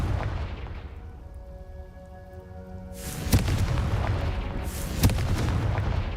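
A Confringo fire spell explodes in Hogwarts Legacy, a sudden broad whoosh and boom swelling in after a quieter rumbling pause, with a sharp crack and a second burst a couple of seconds later.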